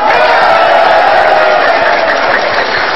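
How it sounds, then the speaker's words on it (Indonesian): Volunteers at a Joko Widodo presidential campaign rally applaud and cheer, a loud, continuous wash of crowd noise with shouts and whoops that barely dips across the whole stretch. "Tepuk tangannya dong relawannya"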